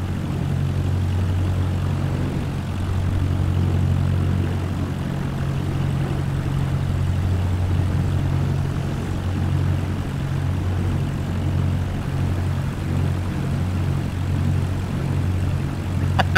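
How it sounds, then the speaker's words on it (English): Propeller airplane touching down in a three-point landing on a runway, a steady loud engine drone heard from inside throughout, with no talk. "That's like the perfect 3-point touchdown."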